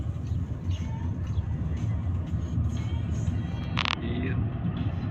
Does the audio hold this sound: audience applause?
no